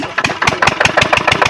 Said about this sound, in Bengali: আবার মেশিন স্টার্ট দেওয়া হচ্ছে